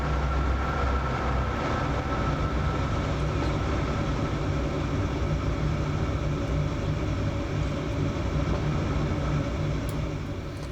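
Trains running on a mainline in Transport Fever 2, a steady, continuous rumbling roll of wheels and engine that holds an even level throughout with no talk.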